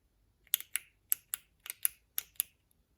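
Sharp, dry clicks from the button of a Zanflare F1 torch under repair, about eight close, crisp presses in an uneven rhythm with quiet gaps between.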